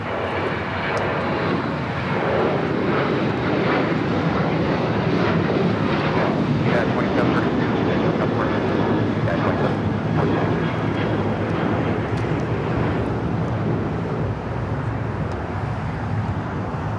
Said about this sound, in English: That flight's taking off, heading to Denver, flight 2732, 737-900 ER.